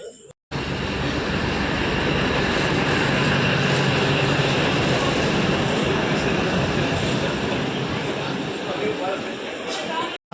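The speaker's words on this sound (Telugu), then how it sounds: "సో మన ట్రైన్ అయితే వచ్చేస్తుంది" A Ballari-Hosapete DEMU train pulls into a station with a loud, steady roar of diesel engine and rolling wheels that fills the whole stretch, broad and continuous from start to finish.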